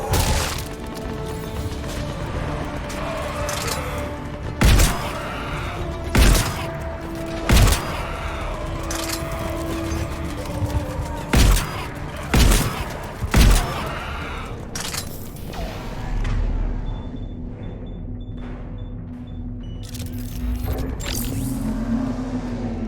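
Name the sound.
gunfire in Mass Effect 3 video game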